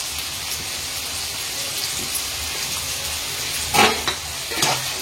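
Capsicum, cabbage and carrot frying in a little oil give a steady crackling sizzle, with a couple of louder stirring scrapes near the end.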